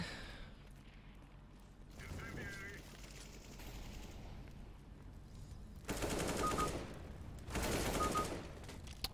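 AK rifle gunfire in the game CS:GO, heard as two loud bursts of rapid automatic fire in the second half, with fainter shots and game noise before them under a steady background.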